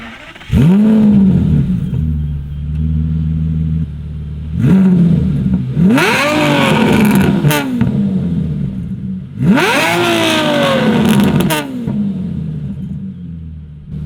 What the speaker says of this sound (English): my God, is it so worth it once you turn on this engine. I'm gonna go ahead and give you guys the sound clip